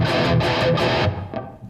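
Thick, dark distorted guitar through a Randall Thrasher head with the treble control fully off, a brief loud burst of chugged chords fading into a short ringing tail.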